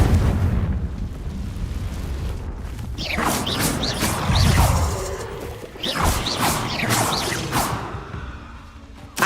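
A Confringo blasting spell in Hogwarts Legacy goes off as a series of fiery booms and crashing bursts, loud and close, rising and falling in waves over several seconds.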